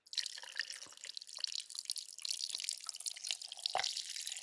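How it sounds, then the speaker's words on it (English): A frothy purple brew pours into a glass, a close, fizzy rush of liquid with scattered drips and bubbly crackle, steady for a few seconds with no voices. "Oh, here it comes. The frothy brew."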